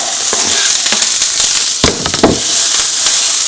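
Onions and black beans sauté in olive oil in a fry pan, giving a loud, steady hiss and crackle with scattered sharp pops and a few quick scraping stirs near the middle.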